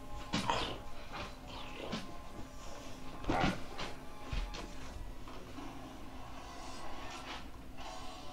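Pet dogs whimpering softly while being petted indoors, a few faint, scattered whines rising over a low, steady room background.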